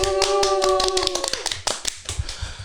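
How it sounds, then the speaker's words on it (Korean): A few people clap at the start of a Korean comics podcast recording session. The claps are sparse and uneven, mixed with sharp taps, some close, and a brief tonal hum fades early on. "박수 한번 주세요."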